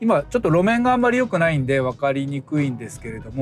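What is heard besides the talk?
No distinct noise like a dog, phone or traffic.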